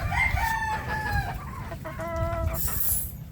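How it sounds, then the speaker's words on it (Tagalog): Several roosters crow one after another at close range, loud harmonic cock-a-doodle-doo calls over a low rumble of background noise, with no talk. "Dito naman tayo sa ibang mga tandang."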